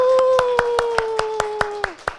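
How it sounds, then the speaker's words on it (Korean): Congregation in a church service clapping in a steady, evenly spaced rhythm of about ten claps, heard under a sustained held tone. "우리 한번 뜨겁게 우리 박수하겠습니다."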